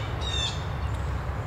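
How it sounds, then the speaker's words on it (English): A crow calls once outdoors, a short harsh caw rising over steady wind and low rumbling background noise. "all right, crows"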